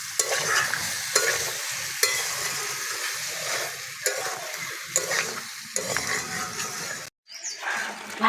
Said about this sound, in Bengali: সব কিছু ভালো করে কষিয়ে নেব মশলার সঙ্গে।